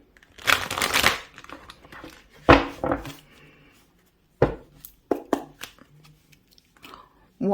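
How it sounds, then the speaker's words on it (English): Tarot cards being shuffled close up, a few short bursts of crisp riffling and slapping separated by quiet pauses. "One more shuffle."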